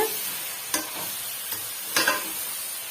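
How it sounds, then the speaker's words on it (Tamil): Okra with masala sautés in a pan over a medium flame for a restaurant-style kara kuzhambu, making a continuous close sizzle broken by a few brief scraping stirs. "மீடியமான ஃப்ளேமில் வச்சு நல்லா வந்து வதக்கி விட்டுக்கோங்க இந்த மசாலாலாம் இந்த வெண்டைக்காயில் நல்லா வந்து அப்சர்வ் ஆனுங்க"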